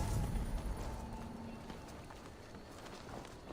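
Horse hooves clip-clop on the ground in the video game Assassin's Creed Valhalla, a quiet, quick rhythmic patter that fades slightly over a few seconds, with soft background ambience.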